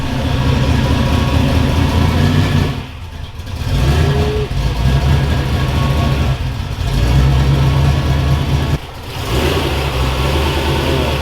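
A Dodge Hellcat Charger with a manual transmission runs in hot weather. Its deep engine drone is loud and close, and it dips briefly a few times as the revs change. No one talks over it.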